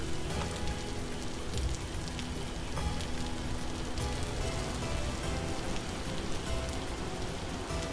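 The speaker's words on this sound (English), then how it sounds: "I really like the sound of rain, but it is really loud." Loud, constant rain falls on a surface in the video game Vintage Story as a dense, unbroken patter with no talk over it.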